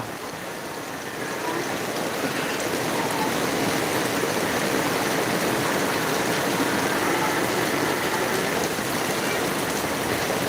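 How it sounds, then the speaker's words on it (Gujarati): Dense, continuous hiss of heavy rain pouring down, steady and loud throughout with no talking. "હાલ જબરજસ્ત વરસાદ ચાલુ લાઈવ"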